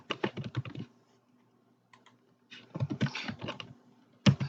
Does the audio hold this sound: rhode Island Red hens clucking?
no